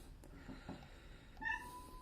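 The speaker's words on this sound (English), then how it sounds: "Oh, ignore the meow," A house cat meows once indoors from a shut kitchen, a short rising cry near the end standing out over quiet room noise.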